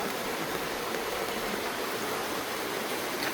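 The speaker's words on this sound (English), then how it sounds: "it's a little water flow going on here." Small stream of water flowing along a street in light rain in Mandaue, a steady soft trickling hiss, fairly quiet and continuous with no voices.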